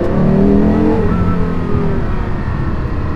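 Porsche Carrera GT engine pulling away from a standstill, a loud steady growl that rises and shifts in pitch as the car moves off gently without much throttle, with no talking over it.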